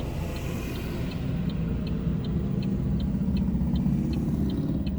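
Steady car traffic rolls through a drive-through lineup, a continuous close engine rumble with light rhythmic ticking above it, no voices.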